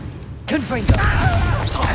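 A Confringo blast spell goes off in Hogwarts Legacy: a sudden booming burst, followed by rumbling, crackling game effects, while a voice shouts over it and other game sounds play beneath.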